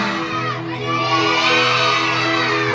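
A crowd of children at a church Vacation Bible School worship service shouts hallelujah loudly together, a sustained, dense roar of young voices that swells and holds for a few seconds.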